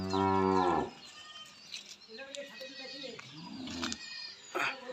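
A loud, close dairy cow gives one long, deep moo, then quieter farmyard background with faint voices and scattered small noises.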